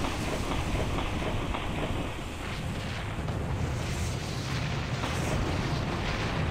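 Battleship guns firing in a WW2 naval battle of Soviet and Japanese fleets in the John Tiller Naval Campaigns game, a heavy, continuous rumbling roar of distant artillery that holds steady throughout with no voices.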